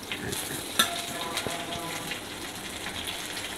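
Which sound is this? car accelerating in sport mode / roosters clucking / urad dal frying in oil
urad dal frying in oil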